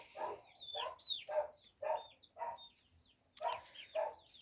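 Chickens cluck repeatedly in a quick, uneven rhythm, fairly faint, with a few higher squawks mixed in.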